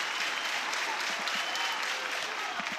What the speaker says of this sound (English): That second strike gets this crowd back into it.